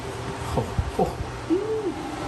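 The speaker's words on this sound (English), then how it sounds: "I got a bird in here. There's a bird." A bird calling inside a garage, giving a few short soft chirps followed by a longer rising-and-falling whistled note, faint against quiet room noise with no talk.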